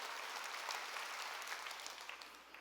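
Congregation applauding together during a Korean church worship service, a steady dense patter of clapping with no voices, fairly faint and even throughout.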